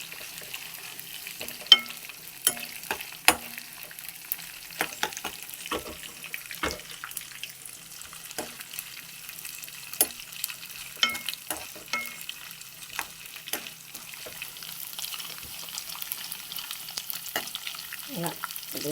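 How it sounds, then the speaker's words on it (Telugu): Brinjal curry frying in a pan, a quiet continuous sizzle dotted with many small clicks and taps from stirring, steady and close with no talking. "వేగుతున్నాయి కదా, కొంచెం సేపు వేగితే"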